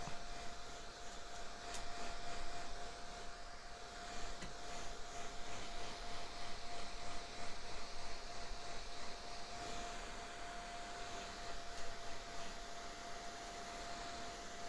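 A fan blows steadily while a face mask dries during a beauty routine, a constant airy whoosh with a faint whine, near and unbroken for the whole span with no talking.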